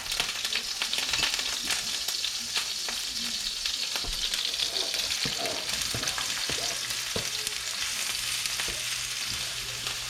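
Onions fry in a pan for risotto, giving a continuous close crackling sizzle with occasional stirring scrapes and no talking.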